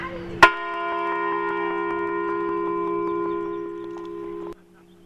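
The Liberty Bell in downtown Kern County struck once at a charity giving-campaign kickoff, giving a single clear clang whose rich ringing tone sustains for about four seconds before stopping abruptly.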